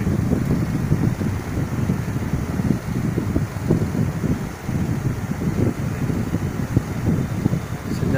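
Steady rushing airflow from an electric wall fan running at speed, a broad continuous whoosh with a low rumbling flutter, close and fairly loud throughout with no voices.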